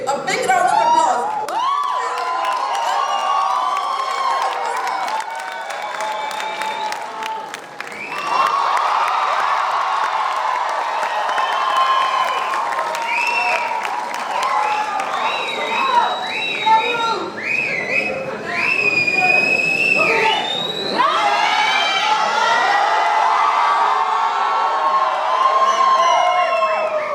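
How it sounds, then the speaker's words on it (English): An audience at the IFFI 2019 festival event bursts into sustained cheering, whistles and whoops over a dense crowd roar, with a voice on a loudspeaker cutting in at points. "Please give a big round of applause."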